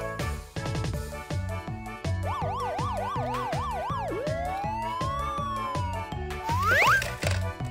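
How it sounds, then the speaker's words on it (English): A toy-like siren from a die-cast unmarked police car wails in rising and falling cycles over a bouncy musical backing with a steady beat, ending in a quick upward sweep. "Unmarked police car."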